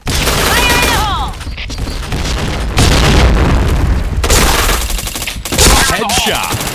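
Grenade blasts and heavy gunfire in a shooting video game, loud and continuous with booming bursts, rapid automatic fire and a few sharp pings and ricochets crowding the whole stretch.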